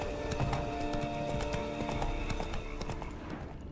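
Horses in the video game Witcher 3 gallop with rapid, rhythmic clip-clop hoofbeats, steady and moderately close over a low rumble of motion.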